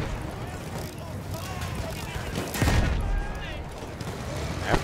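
Battlefield 1 gunfire cracks in scattered shots and short volleys amid noisy battlefield ambience, with one louder close burst midway, while someone talks over the action.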